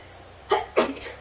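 A person sneezes during a Madden 24 football video game stream, two sharp close bursts in quick succession with quiet before and after.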